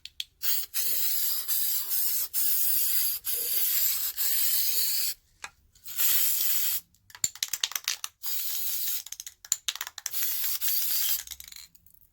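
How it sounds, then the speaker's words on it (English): Mod Podge spray sealant hisses from an aerosol can onto a glitter-covered glass candle holder in a series of short and longer bursts separated by pauses, close and clear, with a few small clicks and rattles between sprays. "what I'm going to do now is the Mod Podge spray"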